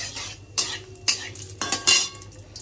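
Dried red chillies and cloves crackle as they are tempered in hot oil in a pan, with a handful of sharp metallic clinks and scrapes from a spoon spaced across the moment over a low, steady background hum.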